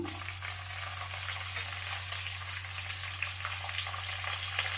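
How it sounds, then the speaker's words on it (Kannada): Vegetables and green chillies frying in a pan for Karnataka-style avarekalu upma, an even, quiet sizzle with light stirring over a steady low hum. "ಇವು ಸ್ವಲ್ಪ ಈ ಥರ ಕೈ ಆಡಿಸಿ ಚೆನ್ನಾಗಿ ಫ್ರೈ ಆಗಲಿ, ಸ್ವಲ್ಪನೇ, ಜಾಸ್ತಿ ಏನು ಬೇಡ. ಈಗ ಮೆಣಸಿನ್ಕಾಯಿ ಹಾಕ್ಕೊಳ್ತೀನಿ ನಾನು."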